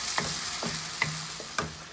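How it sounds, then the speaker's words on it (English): Chopped onion and tomato puree fry in a pan with a steady sizzle, while a spoon scrapes and stirs in a few distinct strokes. "first I'm going to add the onion to it and mix it nicely. After 2 minutes, I'm going to add the tomato puree."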